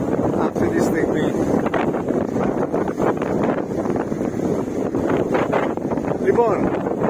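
Strong gusting wind buffets the microphone at the seaside in Pythagorio on Samos during a southerly gale of about 43 km/h, a loud continuous roar with rushing surges and faint water sounds beneath.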